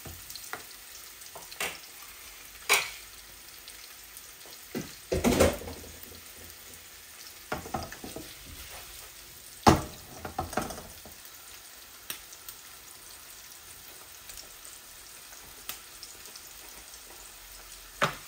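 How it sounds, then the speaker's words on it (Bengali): Pieces of rui fish fry slowly in a pot, giving a soft, steady sizzle broken by sharp clanks and scraping of utensils at scattered moments. "মাছগুলা ভেজে নেই,"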